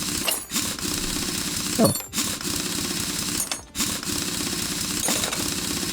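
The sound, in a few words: removing car wheels in Car Mechanic Simulator 2021 video game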